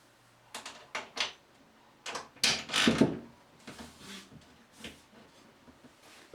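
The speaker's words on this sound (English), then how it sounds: "We can now replace the doors." Bathroom cabinet doors being refitted on a tiled wall: a series of sharp clicks, knocks and rattles as hinged doors are handled and snapped into place, close and irregular, without talk.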